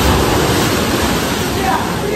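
Sea waves at Pondicherry beach give off a loud, steady broadband roar of surf that holds throughout, close to the microphone, with a voice faintly present underneath.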